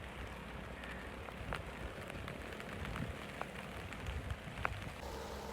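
Rain falls steadily in a broadband patter, with scattered sharper drops standing out now and then; moderately quiet and continuous, with no voices.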